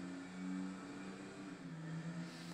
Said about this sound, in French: je sais pas si vous écoutez mieux le bruit de la voiture. C'est quand je suis rentré dans le tunnel, on entendait mieux parce que ça résonnait en fait